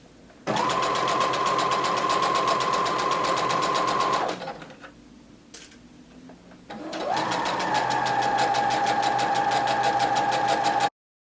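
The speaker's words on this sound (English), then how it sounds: "as you're sewing around the curve of the pocket, you want to make sure that you're pivoting" A sewing machine stitches around the curved pocket of a half circle skirt, running at a loud, steady, close hum that stops briefly for a pivot, then resumes and runs on.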